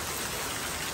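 Rain pours down in a dense, even hiss that fills the whole moment without a break, steady and moderately loud with no voices.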